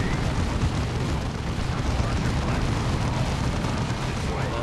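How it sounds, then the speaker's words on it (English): Grenades burst amid the continuous dense roar of battle in Warhammer 40,000: Dawn of War 2, the explosions blending into a loud, unbroken wash of game noise. "That's our grenades."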